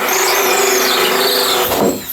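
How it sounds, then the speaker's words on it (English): A power drill bores through two-inch-thick wood while holes are cut for a door handle, giving a steady, loud grinding whine with a squealing edge that strains and drops off near the end. "The drill gets tired."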